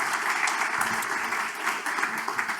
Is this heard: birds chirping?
no